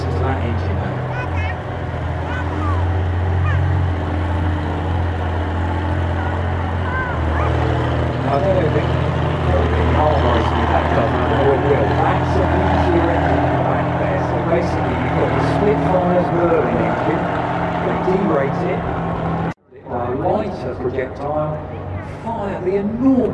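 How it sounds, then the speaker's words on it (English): A loud engine drones continuously at close range, heavy and rumbling, with people talking over it before a brief cut-off near the end. "listen to that engine"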